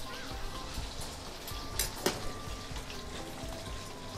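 Marinated chicken drops into a hot pan for a Thai coconut curry and sizzles with soft crackling, plus a couple of brief spatters partway through.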